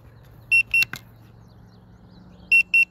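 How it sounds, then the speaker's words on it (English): C-Fly Mini 2 drone emitting two pairs of short, sharp electronic beeps, one pair early and one near the end, separated by quiet low hum, while returning home and landing. "Yeah, you can't turn the beeping off with this one."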